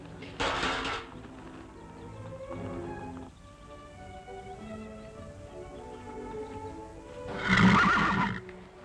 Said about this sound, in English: you never can tell what'll happen in a horse fight